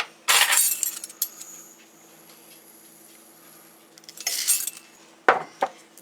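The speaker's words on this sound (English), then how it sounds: "I'm going to put a teaspoon each of all of these spices." Metal measuring teaspoons clink and scrape against spice jars while measuring black peppercorns, yellow mustard seed and other spices for refrigerator pickles, giving a few short bright clatters separated by quiet pauses.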